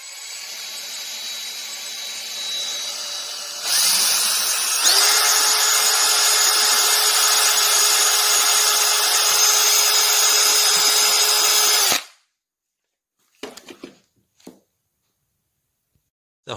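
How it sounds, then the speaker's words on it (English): A power drill bores pilot holes into a wooden piece for a custom screwdriver and plier holder, a loud steady whine that climbs in pitch and runs for about eight seconds, then cuts off, followed by a few short bursts. "Drill the pilot holes inside the piece in middle areas."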